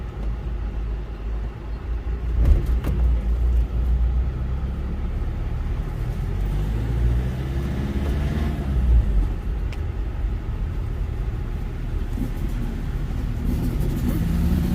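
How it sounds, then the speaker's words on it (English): A small two-stroke Yamaha motorbike passes along a road near the Berowra Waters ferry crossing, a steady engine rumble swelling and fading over constant background vehicle noise, with brief voices in the mix. "A little two-stroke Yamaha, man."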